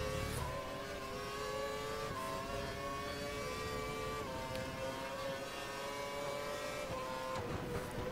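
Race-car engines from the F1 2012 video game during an Australian qualifying session, a steady high whine with shifting pitch and several cars revving and passing close, continuous loud throughout with no talk.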